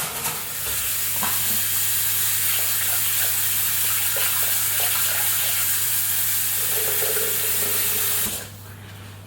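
Water runs into a Thermomix TM6 bowl to cover the blades, a steady splashing pour that lasts several seconds with a low hum underneath, then stops abruptly near the end.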